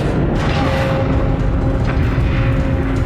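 Continuous loud rumbling explosions and mechanical roar fill a space station plaza in Alien: Isolation, a dense, steady barrage of booms with a faint tonal hum underneath.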